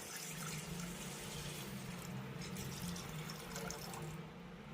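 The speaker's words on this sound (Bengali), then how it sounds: "সেই জন্য একটি পাত্রে বসিয়ে দেব 500 গ্রাম তরল দুধ।" Liquid milk, 500 grams, pours steadily into a cooking pot for a sweet semolina dish, a continuous close splashing rush that tapers slightly at the end, with no talk.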